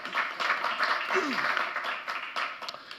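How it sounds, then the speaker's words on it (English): An audience at a conference plenary on the next financial crisis claps for a distinguished panel, scattered and moderate applause running briefly with some voices mixed in. "Let's give them a round of applause, ladies and gentlemen"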